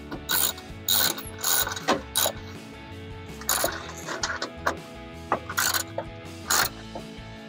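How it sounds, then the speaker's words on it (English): A 10 mm ratchet tightening metal screws into plastic headlight mounts on a Toyota Tacoma, quick bursts of crisp clicking repeated in short runs with pauses between, close by. "you take your 10 millimeter ratchet or your screwdriver like we used to remove them in the first place, and just make sure that you tighten these down"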